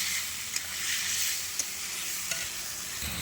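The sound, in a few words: spice paste sizzling as it is added to hot oil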